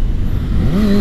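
A Kawasaki ZX6R sport bike's engine flares sharply upward in pitch on a missed shift, a loud, close rising rev over steady road and wind noise.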